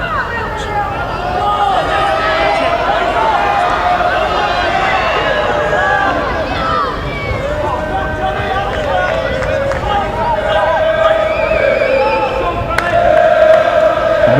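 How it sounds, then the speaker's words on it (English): A rugby crowd at an under-18 schools final between Millfield School and The Grammar School shouts in a continuous, swelling roar, with a commentator talking over it throughout. "They begin to shout in the crowd that Leeds will have the penalty"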